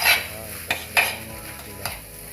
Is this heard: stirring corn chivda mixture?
yes